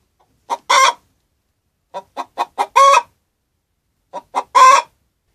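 A hen cackles after laying an egg, three bursts of rapid clucks, each ending in a longer, drawn-out squawk, close and clear against silence.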